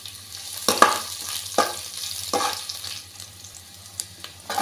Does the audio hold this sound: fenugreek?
yes